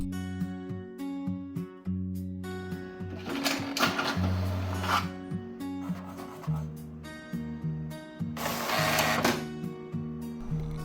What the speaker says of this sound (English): just hit print and you're good to go